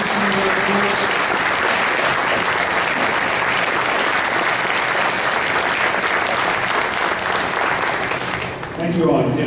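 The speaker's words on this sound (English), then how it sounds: "give a round of applause for our student leaders, our elementary and high school" Sustained applause from a luncheon audience at a Chamber of Commerce event honoring elementary and high school student leaders, dense steady clapping filling the room for nearly ten seconds before tapering off at the end.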